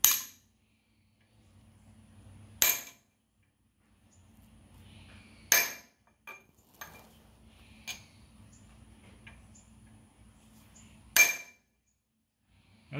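A hammer taps on a 3/8 extension used as a punch against the identification plate of a 1950 Farmall Cub tractor: four sharp metallic strikes spaced several seconds apart, plus a few lighter taps, over a faint low hum.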